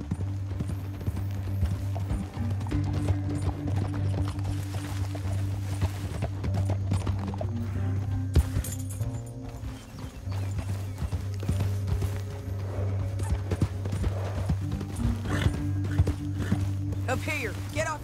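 Rapid clip-clop of horse hooves galloping steadily in Red Dead Redemption 2 under a low droning score, with a brief gap midway and voices talking over it.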